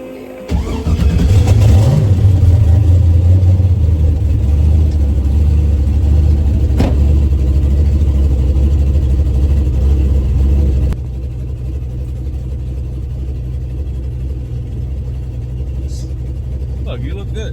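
A 1200-horsepower turbocharged Mustang engine cranks and catches, settling into a loud, steady, rumbling idle close by for about ten seconds before dropping to a quieter running drone.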